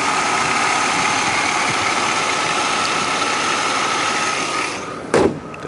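A 1997 Chevrolet Camaro with a 3.8 liter V6 and automatic transmission idles steadily up close, a constant mechanical hum with faint ticking that drops away near the end, followed by a brief knock.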